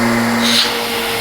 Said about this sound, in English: We're going to test the working vacuum.